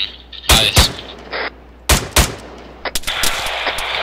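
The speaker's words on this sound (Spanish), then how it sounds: "tengo una ametralladora todavía en la posición" Machine gun fire in the video game Arma 3, loud close bursts of rapid shots in short separate volleys with a low rumbling background between them.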